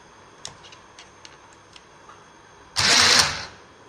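A sewing machine used to stitch a chudidar bottom gives a few light ticks and clicks, then a short, loud, close burst of stitching lasting under a second.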